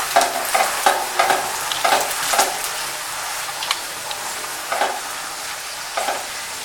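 A paratha fries in desi ghee on a pan with a steady, moderate sizzle. Rhythmic scraping and pressing sounds punctuate it every half second or so, then pause briefly before resuming, with no voices.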